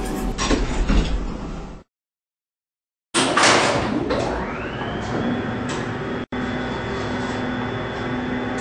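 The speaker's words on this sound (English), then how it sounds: "Door closing." An elevator door closing in a Roblox video game: a mechanical sliding rumble, then a cut to silence, followed by a rising whirring motor tone that settles into a steady hum.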